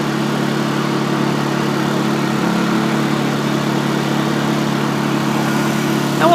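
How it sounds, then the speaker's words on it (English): A Honda EU2000i inverter generator converted to run on propane idles steadily nearby, a smooth, constant low engine hum with no change in pitch. "you can hear the engine running"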